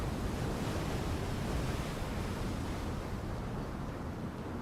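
A rushing torrent of floodwater pours out after a dam breaks in Breath of the Wild, a steady broadband roar like heavy surf that holds loud and unbroken from start to finish.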